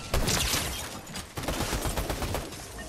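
Continuous dense gunfire in the video game Fortnite, a rattling stream of overlapping shots with a few sharper bursts, fairly close and steady throughout.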